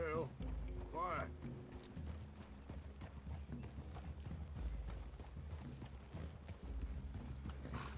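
Horses clip-clop at a walk in Red Dead Redemption, a steady run of hoof knocks beneath game music and faint voices near a forest clearing.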